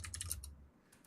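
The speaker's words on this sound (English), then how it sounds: "While he's typing" Someone types quickly on a computer keyboard, close up and quiet, with a burst of rapid key clicks followed by a pause and a few more taps.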